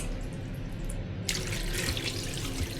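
Tap water poured over a child's feet during washing at a home sink, a steady stream that suddenly grows louder and splashier partway through, close by and continuous.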